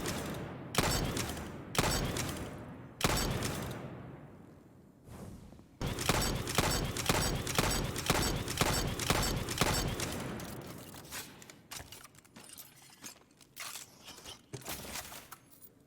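Xenophage, an exotic gun in Destiny 2, fires heavy single shots, each a loud close blast with a short ringing tail; they start widely spaced, come as a quick run of rapid shots, then thin out.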